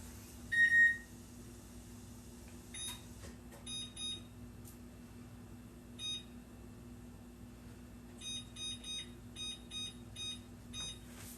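Kitchen timer in a home kitchen beeping while a keto green bean casserole bakes: a longer opening tone, then short, clustered electronic beeps at irregular intervals over a low steady hum, with no speech.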